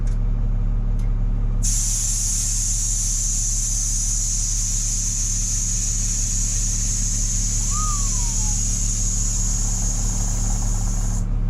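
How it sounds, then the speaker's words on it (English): Steady hiss from an air-ride driver's seat valve leaking in a bus being converted to an RV, continuous and fairly close over a low engine-like hum, with a brief chirp partway through. "Squishy noises, like perhaps the valve's leaking."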